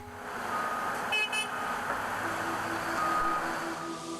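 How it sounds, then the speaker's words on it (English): Volvo wheel loader giving a short horn signal, one brief toot sounding over the steady drone of its engine and machinery, with tonal beeps following near the end. "signal by sounding the horn"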